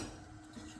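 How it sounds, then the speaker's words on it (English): Coconut milk stirred into butternut squash soup in a pot, a spoon scraping and clinking softly against the pot's sides in a brief, close, continuous stir. "we're gonna stir that in"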